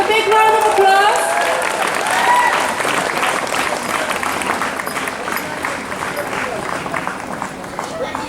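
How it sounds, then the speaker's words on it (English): A crowd claps loudly at a school recreation week prize ceremony, sustained dense applause with a voice and whistle-like tones heard over it at the start, continuing steadily to the end. "Please give a big round of applause."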